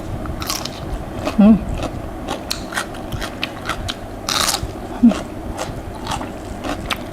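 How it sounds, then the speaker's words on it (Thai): Crisp, dry pickled shallots bitten several times up close, with a couple of sharper crunches standing out over faint background noise. "หอมดองเนี่ยกรอบแห้งนะคะพี่น้องค่ะ"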